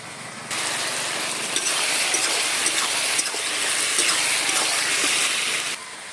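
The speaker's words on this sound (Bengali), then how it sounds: "এবারে দিয়ে দেবো ভেজে রাখা ইলিশ মাছের মাথা" Fried hilsa fish heads go into a hot pan with turmeric and sugar, setting off a steady, loud, close sizzle that holds for several seconds before cutting off.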